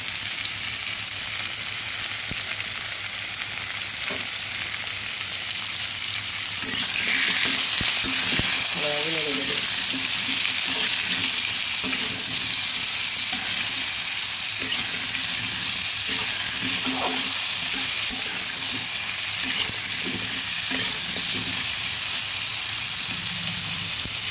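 Papaya and potato pieces frying in hot oil with turmeric and salt, a continuous loud sizzle that grows brighter and fuller partway through, with occasional stirring clinks and scrapes in the pan.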